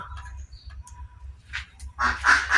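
Pet budgerigars in an indoor breeding room chirp in a cluster of bright, busy calls toward the end, over a steady low hum.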